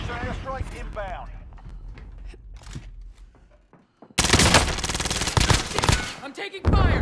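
Call of Duty Modern Warfare gunfire: after a stretch of radio-style talk, loud rapid automatic bursts erupt close by and continue in dense volleys, with a short gap before another burst at the end.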